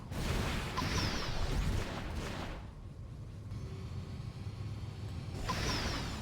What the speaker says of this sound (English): the car noises are as loud as they ever were